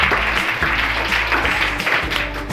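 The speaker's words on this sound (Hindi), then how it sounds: "बड़ी के लिए तालियां बजाओ।" Dense applause from an audience at a math lesson, steady and fairly loud over a low, humming background, with no clear talking throughout.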